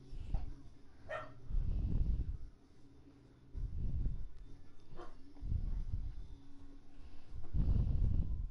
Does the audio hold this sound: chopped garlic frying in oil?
no